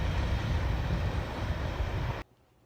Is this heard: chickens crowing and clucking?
no